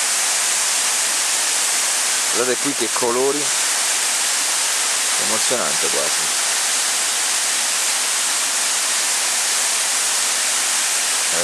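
A waterfall of seven cascades at La Falda, Argentina, roars in a steady, loud rush of water throughout, while a person speaks briefly twice over it.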